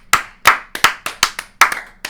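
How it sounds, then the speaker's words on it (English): A small group claps on a podcast set, sharp hand claps in an uneven rhythm of about a dozen close, loud strikes over two seconds, with no talking. "Clap it up."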